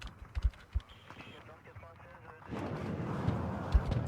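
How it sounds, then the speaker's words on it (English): Game gunfire from a Milan 2 missile team in the Warno real-time strategy game, a few sharp distant thumps early, then a denser rumble of battle noise, with faint talk underneath. "Milan 2 opening fire."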